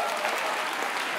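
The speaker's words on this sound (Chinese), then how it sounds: "来给恩阳一个拍手。" A congregation applauds for Enyang at a church gathering, a dense, even burst of clapping filling the whole short moment at close range.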